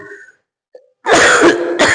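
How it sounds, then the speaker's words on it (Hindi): A teacher coughs and clears his throat mid-lesson during a Class 10 science quiz: a short soft hack, a pause, then a loud rasping throat clearing followed by a brief second burst, close to the microphone. "खांसी हो रही है, छूट जाएगी।"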